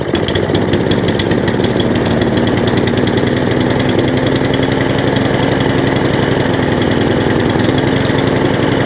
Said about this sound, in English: Just going to start the lawnmower up.